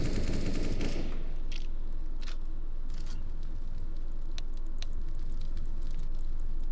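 Sharp gunshots in a Counter-Strike match, a loud burst near the start followed by scattered single shots and distant pops over a steady game background.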